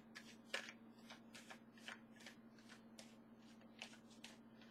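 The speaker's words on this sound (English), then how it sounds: "I'm going to have to stretch out my arm after all this shuffling" Tarot cards are shuffled by hand in close, repeated riffling bursts with short gaps between them, crisp and quiet over a low steady hum.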